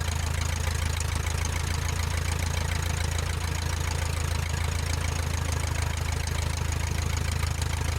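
A Luscombe light airplane's piston engine runs steadily at a turnout during a run-up, a loud, continuous low drone with an even mechanical throb and no talking throughout.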